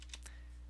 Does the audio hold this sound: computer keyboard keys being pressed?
yes